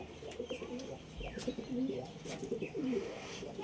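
Pigeons cooing up close in a loft where one sits on eggs, with repeated soft throaty coos and a few chirps over a quiet, busy background.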